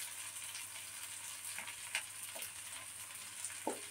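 Onion garlic chutney with red chili powder and amchur powder sizzles steadily in a hot pan while a spoon stirs it, giving a few soft scrapes and taps over the constant frying hiss.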